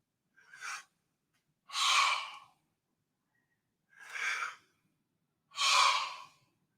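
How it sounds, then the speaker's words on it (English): A person breathes slowly in and out four times at close range, each breath an airy rush separated by silence. No one speaks. "Inhale, exhale."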